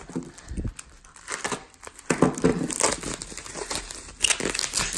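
A heavily taped mail package is torn open up close, with crinkling plastic, ripping tape and crackling paper in irregular bursts that grow busier and louder toward the end.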